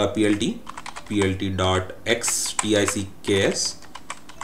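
Someone types a short command on a computer keyboard in brief bursts of crisp clicks while speaking over them at a close, moderate level.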